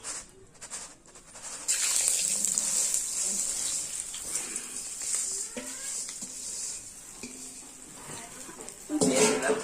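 Rice for pulao pours into a wok of hot oil and ghee, setting off a steady hiss and sizzle with light clatter of grains and utensils, and a brief rattle near the end.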